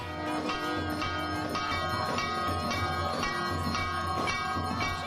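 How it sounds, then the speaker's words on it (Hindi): Temple bells ring during Navratri worship of the goddess, struck again and again in a quick, even rhythm that carries on steadily throughout. "कहीं घंटे और शंख की गूंज है"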